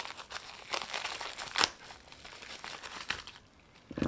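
Crinkling plastic packaging of nail gel being torn open by hand, with a sharp rip partway through and rustling before and after, close by.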